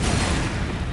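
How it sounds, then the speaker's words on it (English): A grenade going off in Resident Evil 6, one loud, close, broadband blast filling the whole second with a heavy rumbling body. "We have grenades. We might as well use them, right?"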